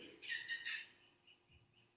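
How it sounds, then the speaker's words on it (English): Faint outdoor birdsong drifts in from a distance, with a short burst of lively chirping followed by sparse, quieter tweets. "Including those cheeky birds out there. They are just singing with enthusiasm."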